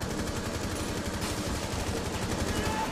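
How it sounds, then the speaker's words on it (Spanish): Rapid automatic gunfire in a Rainbow Six Siege match, faint and somewhat distant, forming a continuous rattling stream of shots throughout. "Están disparando a ese lado."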